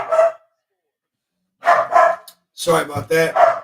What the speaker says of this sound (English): You might hear a dog barking.